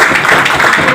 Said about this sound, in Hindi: चलिए, तो फिर से एक बार जोरदार ताली खुद के लिए।